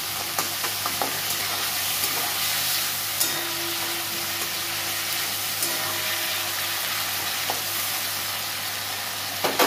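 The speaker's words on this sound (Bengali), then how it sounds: "1 চামচ সর্ষে বাটা, কাঁচা লঙ্কা সর্ষে বাটা। একটু কষে নিচ্ছি।" Mustard paste and green chili sauté in a pan for a kajli fish curry, giving a steady, even sizzle with a few faint stirring clicks and no talk.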